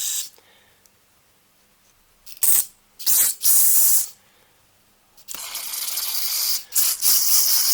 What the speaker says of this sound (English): Now I'll just go through and spray every single hole.